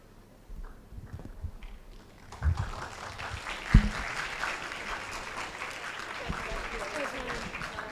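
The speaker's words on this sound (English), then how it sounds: "let's give another round of applause for their courage" Applause from an audience at a hackathon presentation, a dense, steady wash of clapping that swells and holds through the clip, with a few louder bumps and faint voices underneath.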